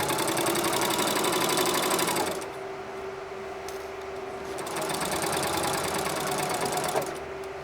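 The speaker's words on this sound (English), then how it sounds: "start sewing all the way around" A sewing machine stitches around a triangular hot pad, a loud, rapid mechanical whir that runs for about two seconds, dips briefly, then resumes steadily, close up and without voices.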